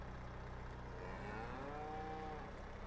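Cows in a farm game cow shed moo in a long, drawn-out low call over a steady background hum.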